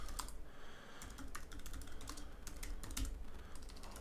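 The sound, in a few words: typing on a computer keyboard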